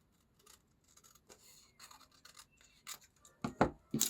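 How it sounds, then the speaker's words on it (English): Scissors cutting a fabric doll body pattern, a sequence of soft close snips and rustles that grows louder and crisper toward the end. "Time to cut out the body pattern."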